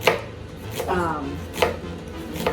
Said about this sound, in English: Slice my onions super thin.